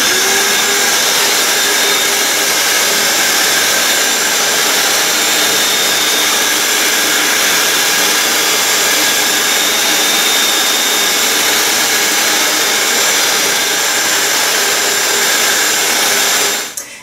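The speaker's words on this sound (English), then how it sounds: "You're going to turn your shop vac on and blow a steady stream of air into the flutes across the entire width of the sheet." A small shop vac blows a steady stream of air through the flutes of a multiwall polycarbonate sheet, making a loud, constant roaring whoosh that holds throughout and cuts off at the end, with no voices.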